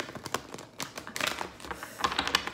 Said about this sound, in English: I need to shuffle a little bit more because those were cards that I pulled last night